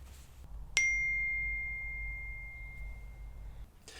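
A single clear, bright ping rings out once like a phone message notification, close and sharp, then fades slowly in a long, thin, sustained tone over a quiet room.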